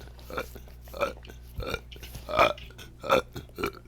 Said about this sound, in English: Oh, and it's making me burp.